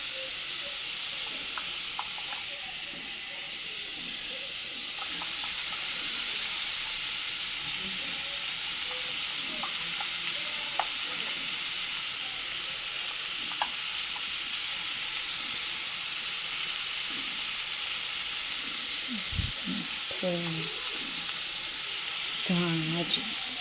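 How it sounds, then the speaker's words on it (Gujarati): Vegetables being tempered in hot oil with garlic, asafoetida and spices give off a steady, soft sizzling hiss throughout, with a few light utensil clinks near the end. "શાક તો વઘારી દીધું"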